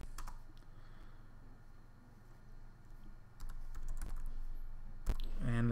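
Someone types a command on a computer keyboard, quiet scattered key clicks over a low steady hum, with a sharper keystroke toward the end.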